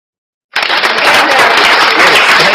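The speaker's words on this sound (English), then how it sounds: "So I would appreciate a little applause." After a brief silence, applause from a live show audience bursts in abruptly and continues as dense, loud, steady clapping.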